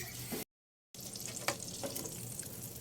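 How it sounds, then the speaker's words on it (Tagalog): Butter melting and sizzling in a pan for garlic butter shrimp, a steady soft crackle with a few sharper pops, faint and close, cut by a brief gap of silence. "Butter ang inuna, tutunawin lang yung butter"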